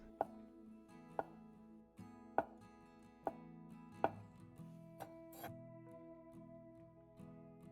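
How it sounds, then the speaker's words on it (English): A knife chops shiitake mushrooms on a cutting board in a string of distinct, evenly spaced thunks, roughly one per second, close and clear over a low background hum. "Now we'll chop through the rest."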